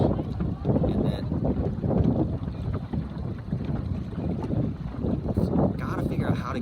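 Power boat motoring past on open water during a Sabot sailing regatta, its engine a steady low rumble blended with heavy wind buffeting on the microphone.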